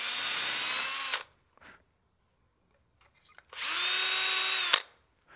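A power drill spins an Alumilite barrel trimmer squaring the end of a pen blank, two loud steady whirring bursts of about a second each separated by a quiet gap with faint handling clicks.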